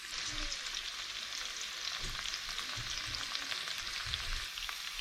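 Massive foraged scallops and flour-coated squid frying in a pan outdoors on the coast, a steady close hissing sizzle with occasional soft stirring knocks, no talking.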